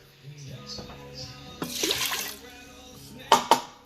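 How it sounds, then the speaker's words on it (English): Water is poured into a quick cooker in a home kitchen, a short splashing pour followed by a couple of sharp clinks of the pot, with faint background sounds and no talking. "Now we're going to put a little water in there."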